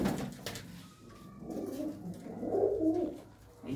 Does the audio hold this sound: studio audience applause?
no